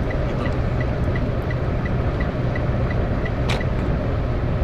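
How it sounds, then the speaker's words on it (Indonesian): Cabin of a 2018 Toyota Agya G 1.2 automatic driving on the Cipularang toll road, filled with a loud, constant roar of tire and wind noise, a faint regular ticking and one brief sharp knock partway through. "suara ban masuk, suara angin masuk"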